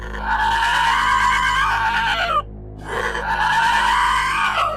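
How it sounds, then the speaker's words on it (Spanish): An angry goat's harsh, drawn-out cry in a dark nighttime folk horror setting, loud and close, two long strained bleats separated by a brief pause, with no talking. "se escuchó el mismo sonido colérico de la cabra"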